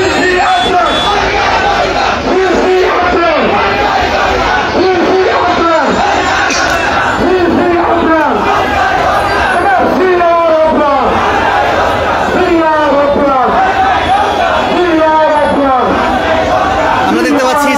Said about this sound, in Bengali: তারা স্লোগান দিচ্ছে।